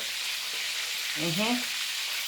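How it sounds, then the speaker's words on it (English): Soft, steady sizzling of salt fish frying in a pan, with a brief faint tonal squeak in the middle, no talking. "while that is frying"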